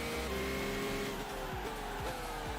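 A 2005 Formula 1 car with a V10 engine in Gran Turismo 5, high-revving engine whine with repeated gear shifts and drops in pitch, steady and fairly quiet with no voices.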